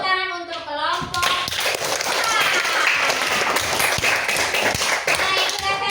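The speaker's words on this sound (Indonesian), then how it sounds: "Tepuk tangan untuk kelompok" Students clap for a group that has just presented in a school classroom. A brief voice comes first, then dense, sharp handclaps continue steadily for several seconds, with some children's chatter mixed in.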